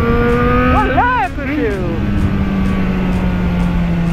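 A Yamaha XJ6 motorcycle engine, freshly tuned, runs close by with a steady hum, swelling briefly as the throttle is blipped before settling back to an even idle.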